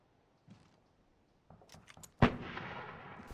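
Gunfire shooting through a wall in the video game America's Army: Proving Grounds, faint clicks and footsteps followed by one sharp, loud shot with a lingering echoing tail.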